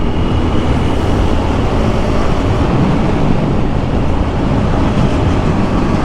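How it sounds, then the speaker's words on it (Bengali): A train rumbles past close by beside a moving motorcycle, a loud, continuous heavy roar with steady rolling clatter throughout. "আমি এই পাশে ট্রেন ওই পাশে"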